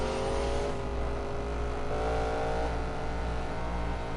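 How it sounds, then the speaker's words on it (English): A car held at top speed in a PS4 racing game, a steady high-pitched engine drone with slight pitch shifts and continuous road noise, alone and unbroken. "One thing about this car, it handles so well at top speed, and the speed is so ridiculous."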